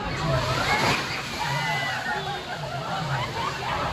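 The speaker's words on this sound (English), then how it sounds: "And I'm in the splash zone and I just survived." Water splashes and sloshes over a ride's splash zone at Thorpe Park theme park, a steady, loud rush of spray lasting the whole stretch with crowd noise mixed in.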